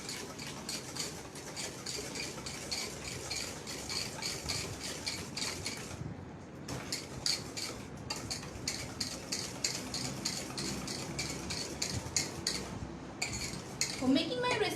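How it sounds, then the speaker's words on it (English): Sugar being whisked in a bowl: rapid, even metallic clinking and scraping of the whisk against the bowl, moderately close, carrying on steadily with a brief pause partway through. "Whisk it nicely until the sugar is dissolved."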